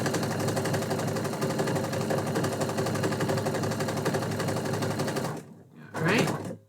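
A sewing machine stitches through quilt batting in a fast, steady, continuous whir for about five seconds, then stops abruptly, followed by a brief softer rustle.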